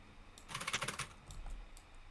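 Someone types on a computer keyboard nearby in a quick burst of clattering keystrokes, then pauses and taps a few scattered keys, with no talking.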